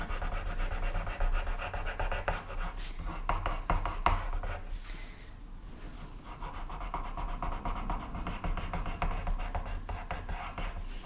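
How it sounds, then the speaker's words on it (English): A pencil crayon lightly shades on paper, a soft continuous scratchy rubbing with rapid back-and-forth strokes, close up and steady, easing briefly around the middle before resuming. "I'm just going to very lightly shade that in"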